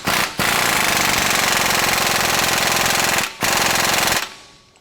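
Loud, harsh rattling bursts from a power tool driving a 21mm socket through a swivel and extension onto a factory bolt during a 2018+ Jeep Wrangler JL lift install. One long burst is followed by a shorter one after a brief pause, then the tool stops.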